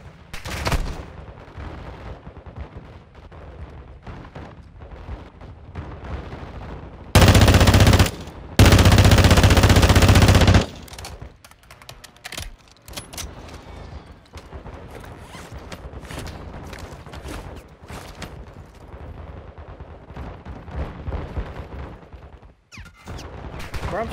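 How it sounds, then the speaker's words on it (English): Video game gunfire erupts in a shootout, with two loud dense bursts of automatic fire close by, scattered single shots and clicks around them, and people talking throughout. "I'm trying to figure out where the fuck we're getting shot from."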